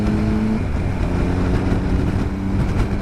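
A 2018 Triumph Tiger 1200 motorcycle engine holds steady revs on small roads, a loud, close and continuous drone with a deep rumble and no speech over it.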